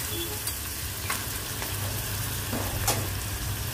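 Onion frying in a pan of spiced paste for a Konkani-style shrimp dish, a steady close sizzle with faint stirring clicks and occasional pops, no talking.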